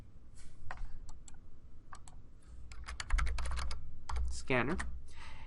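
Java code is typed on a computer keyboard, with irregular bursts of close clicking keystrokes, some quick runs and pauses, over a low background hum.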